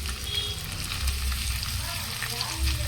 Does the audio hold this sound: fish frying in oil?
yes